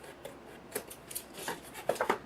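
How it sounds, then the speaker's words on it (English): Scissors trim excess ribbon on a gift box, producing a few quiet, close snips and light rustles spaced irregularly, no talking. "I just take my scissors and I trim that off."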